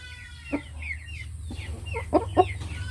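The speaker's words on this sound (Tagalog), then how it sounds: "ito mga kaibigan yung ating tryo na Rhode Island Red" A small flock of Rhode Island Red pullets, heritage backyard chickens, clucking in a few short, soft calls spread over a few seconds, with a steady low background hum and no talking.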